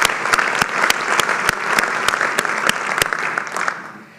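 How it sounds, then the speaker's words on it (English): An audience applauds at a business awards luncheon, with a dense burst of clapping from a roomful of people and sharp individual claps standing out near the front before it tapers off. "clap for the other people in this room who do that"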